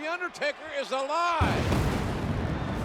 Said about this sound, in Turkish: Bir patlama oldu Kane.